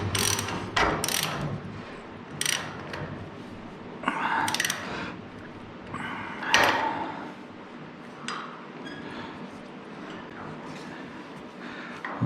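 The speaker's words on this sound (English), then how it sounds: "I'm probably just going to have to use a wrench and figure it out." A wrench ratchets on the spindle of a Cobra Daytona replica during assembly, with rapid clicking bursts and metallic clanks spread across the stretch, close by in a quiet garage.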